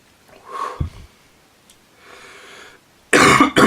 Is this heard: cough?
yes